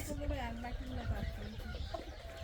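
Free-range native country chickens cluck and murmur on a farm, several soft calls in a loose rhythm, fairly faint, with a person talking over them.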